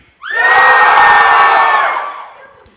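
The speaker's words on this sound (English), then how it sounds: "Scream at me on the count of 3." An audience at a motivational talk screams together on cue, a sudden loud burst of many voices shouting and cheering that holds for about two seconds before fading out.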